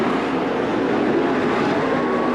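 410 sprint cars racing at Attica Raceway Park, a dense continuous engine roar from the pack running side by side, loud and unbroken throughout.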